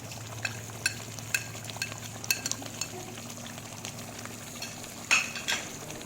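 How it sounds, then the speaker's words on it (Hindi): A spoon stirs spices such as turmeric and crushed coriander into beef paya in a pot, with soft scraping taps and faint clinks over a low steady sizzle, quiet and close. "इन सारे स्पाइसेस को हम चम्मच की मदद से अच्छी तरह से मिक्स कर लेंगे"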